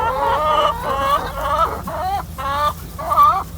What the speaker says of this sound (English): it's not complicated keeping chickens